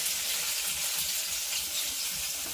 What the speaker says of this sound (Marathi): आता आपण लसूण ठेचलेला टाकूया गरम तेलामध्ये